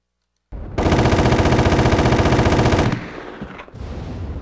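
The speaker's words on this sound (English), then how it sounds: "Alright, let's test the automatic pistol out." An automatic pistol fires in Resident Evil: The Umbrella Chronicles: a loud, rapid stream of closely spaced shots rings out for over two seconds, then ends, leaving faint echo and game ambience with no talking.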